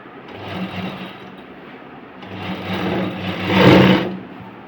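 A sewing machine stitches a blouse sleeve, close and loud, its motor whirring in bursts that rise and fall with the pace of stitching.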